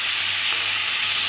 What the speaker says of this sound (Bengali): চিনি দিয়ে এবার নাড়বো